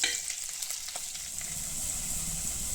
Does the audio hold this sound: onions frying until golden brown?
yes